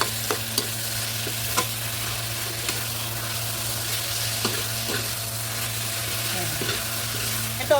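Ground meat sautéing in a pan with garlic and onion, a low steady sizzle under repeated sharp scrapes and knocks of a stirring spoon against the pan, close by and fairly quiet, with no talking.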